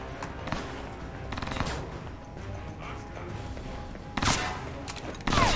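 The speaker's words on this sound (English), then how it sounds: "That guy is shooting SMGs at me." Submachine-gun fire from enemies in the video game Alpha Protocol, several short bursts of rapid shots spread across the clip, moderately loud with a louder burst near the end and no talk.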